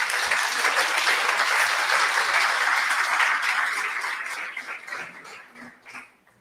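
Applause from a church congregation during a sermon, dense and loud clapping at first that tapers off and fades out toward the end, with a few voices underneath.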